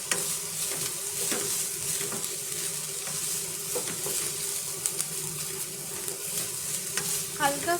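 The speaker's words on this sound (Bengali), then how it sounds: "এবার দেবো লঙ্কা কুচি, আর একটু নাড়িয়ে নেবো।" Chopped tomato and green chilli being stirred in a pan, a steady soft sizzle with scraping spoon strokes throughout, fairly close, no voices.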